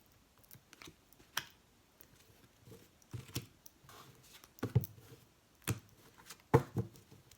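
A deck of cards cut and handled during a tarot-style reading, with soft papery slaps and shuffling clicks in short scattered bursts, quiet and close, no talking.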